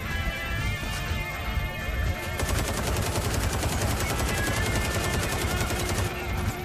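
Rapid automatic gunfire in a shooter video game, dense continuous bursts of shots with crashing impacts and explosions, loud and sustained throughout.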